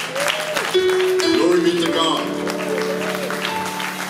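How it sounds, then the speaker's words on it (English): A church congregation claps along beneath sung and spoken praise, the clapping steady but partly buried under a voice and sustained musical tones. "let's clap now for Jesus."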